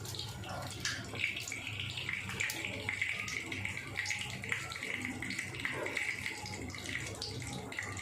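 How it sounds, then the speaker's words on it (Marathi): Mustard seeds crackle and sizzle in hot oil in a home kitchen, a dense, steady frying hiss with faint pops running throughout, while a voice speaks softly over it. "आता तेल गरम झालं आहे, आपण राई टाकून घेऊया"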